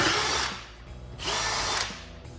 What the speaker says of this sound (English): we're just going to re-drill all these out